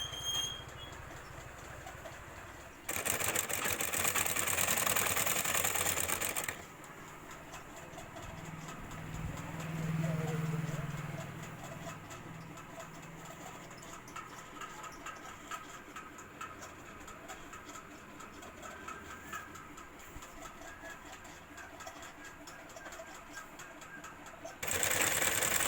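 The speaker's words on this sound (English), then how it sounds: "turning the bag, top side edges stitching and tension margin stitching" A sewing machine stitches the top and side edges of a grocery bag indoors, running in a loud continuous burst, then a long quieter stretch of steady mechanical whirring, and a final loud burst at the end.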